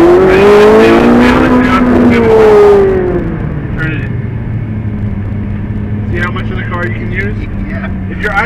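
Ferrari 458 Italia on a track, a loud engine note rising in pitch as it accelerates over the first three seconds, then settling into a steadier lower drone, with faint voices in the background.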